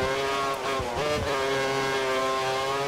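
A Formula 1 race car in the F1 2013 game at Suzuka screams at high revs, pitch dipping briefly through a gear change and then holding a loud, steady engine tone.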